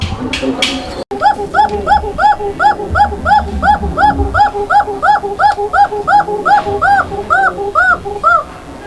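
A pair of Indian Bombay pigeons coo steadily and close by, a long run of evenly spaced, rolling coos repeating about every third of a second after a brief knock at the start.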